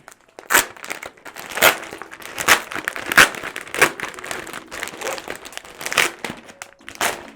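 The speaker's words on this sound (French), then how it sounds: "On va ouvrir le sac." A bag is opened with repeated crinkling and crumpling of packaging, several loud rustling bursts spaced through the clip, close to the microphone with no talk.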